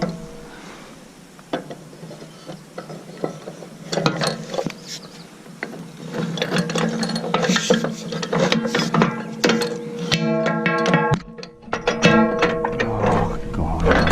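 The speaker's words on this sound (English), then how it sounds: "Easier with a spanner, I think." Spanner tightening a bolt during an in-field repair on a flat roll, giving repeated ratcheting clicks and metallic scraping in bursts, close and fairly loud, with a person talking and grunting over the work.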